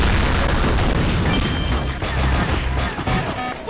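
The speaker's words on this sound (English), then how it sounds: "Dodge those bombs" Bombs exploding in the Transformers: Dark of the Moon mobile game, a dense, continuous wall of loud booming blasts and crashing impacts with no break throughout.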